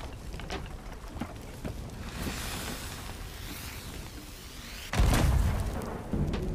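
A ship's cannon fires in the pirate video game Sea of Thieves, one heavy boom with a rumbling tail over ambient sea and wind noise, with a second thud following shortly after.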